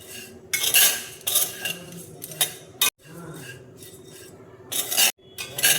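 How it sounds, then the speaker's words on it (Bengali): Dry flattened rice (chira) stirred in a dry wok, giving repeated scraping and rustling bursts of grains and utensil against metal in an uneven rhythm, with brief pauses between strokes. "চিড়েটা দেখো শুকনো কড়াইয়ে আমি নেড়ে নিচ্ছি।"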